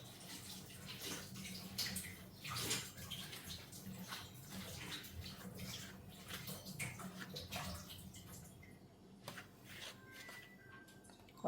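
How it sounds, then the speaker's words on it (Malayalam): Water trickles and splashes faintly into potato dough as it is kneaded for a potato-paneer snack, a soft, continuous wet sound. "കുറേശ്ശെ വെള്ളം ഒഴിച്ച് കൊടുത്താൽ മതി"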